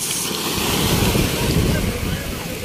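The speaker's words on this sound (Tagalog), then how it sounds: "Abot pa dito ang alon" Waves wash and surge nearby under steady wind noise, a continuous broadband roar with faint voices in the background.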